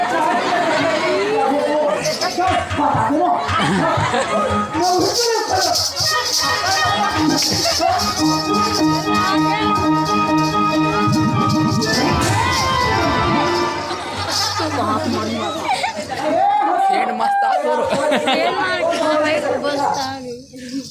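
A large, dense crowd at a Jay Ambe dance party in Kohda fills the space with constant loud chatter, shouts and cheers, with music playing underneath and nearby voices talking over the din.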